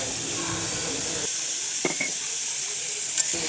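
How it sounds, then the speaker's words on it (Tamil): Onion and tomato with salt sauté in a pan, a steady hiss of frying with a few sharp spoon taps and scrapes, close and continuous. "இப்போ கொஞ்சமாக உப்பும் சேர்த்து நம்ம இப்போ வதக்கி எடுத்துக்கலாம்"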